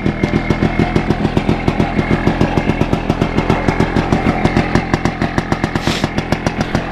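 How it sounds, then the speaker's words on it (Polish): A WSK 125 motorcycle engine runs at a steady idle, a loud, close, evenly spaced thudding rhythm that keeps going with no talking. "Pokażę wam jeszcze, jak WS-ka se chodzi."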